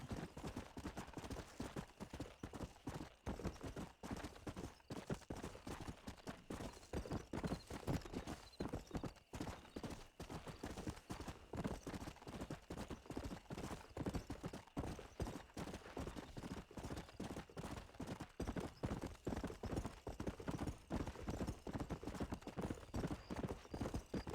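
Horse hooves clip-clop steadily and close in Red Dead Redemption, a continuous rhythmic trot lasting the whole stretch with no talk over it.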